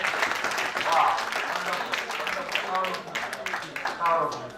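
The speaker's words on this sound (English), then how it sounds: "Please give Pat Komafan a big hand of applause." Audience applause during a social cohesion dialogue session, a few seconds of clapping from a gathered crowd with voices and chatter mixed in over it.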